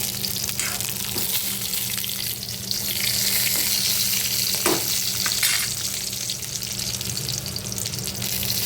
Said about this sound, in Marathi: सगळीकडे व्यवस्थित भाजली गेली पाहिजे म्हणून ते व्यवस्थित आपल्याला अलतीपट्टी करायची आहे